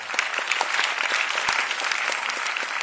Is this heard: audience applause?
yes